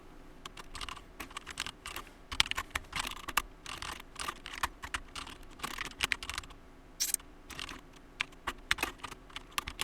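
Steady, fast typing on a computer keyboard while a C program is entered, quick bursts of close, crisp key clicks with short pauses between them and no talk.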